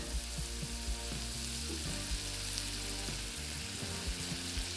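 Butter sizzles and crackles steadily under grilled cheese sandwiches on sourdough frying in a pan, a constant close hiss with faint low hum throughout.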